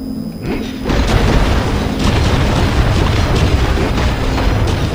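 An old cannon firing in the video game Skylanders Swap Force: a loud, close boom that swells into a sustained, heavy rumbling roar lasting several seconds.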